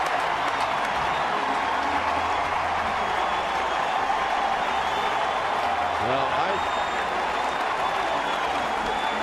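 A ballpark crowd at a Houston–San Francisco game applauds pitcher Matt Cain, with sustained cheering and clapping as a loud, continuous roar. A broadcaster talks over it.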